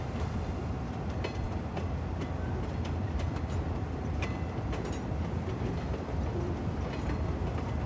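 A train running along rails in the Cities: Skylines city-building game, a steady rumbling roll with faint rhythmic clicks continuing evenly throughout, loud and close with no talking.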